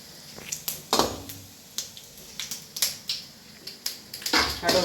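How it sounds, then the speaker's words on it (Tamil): Mustard seeds splutter in hot oil in a pan with chana dal, giving sharp, irregular popping crackles close up, some sharper bursts standing out among quicker small snaps. "கடுகு பொரியுது பாருங்க."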